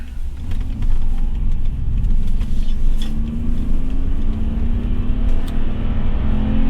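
An old BMW accelerates from 0 to 60 on a highway, its engine droning loudly inside the cabin as a rising tone climbs steadily, with road and wind noise underneath the whole way.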